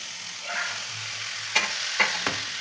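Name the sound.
tomato pieces frying with spice powder in a pan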